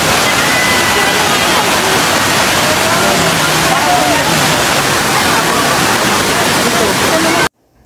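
Loud, steady roar of Cambugahay Falls waterfall in Siquijor, continuous broadband rushing water filling the whole stretch, with faint crowd babble mixed underneath, ending abruptly.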